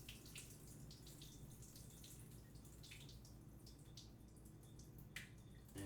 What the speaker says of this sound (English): I'm just going to fill it up with some water, toss them around